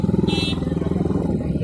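A motorcycle being parked, its engine idling with a pulsing, throbbing rumble close by for a brief moment, as a voice talks over it.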